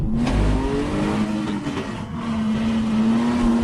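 A BMW E46 325 drifts in second gear on a track, its engine revving sharply after a clutch kick, then holding a strained, steady high-rev howl close by.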